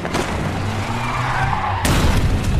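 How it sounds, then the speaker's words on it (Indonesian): In an action film scene, a car speeds past with a loud, rushing roar and tire noise, swelling and ending in a sharp, heavy burst. "sebuah mobil melaju hingga melakukan pengeboman"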